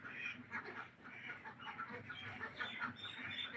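A flock of desi chickens clucks continuously during the monsoon season, many overlapping calls forming a busy, steady chatter with no pauses.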